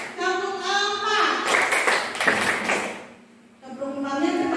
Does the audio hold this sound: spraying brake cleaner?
no